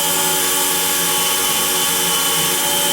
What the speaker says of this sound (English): I'll go ahead and just drill all the way through a pilot hole.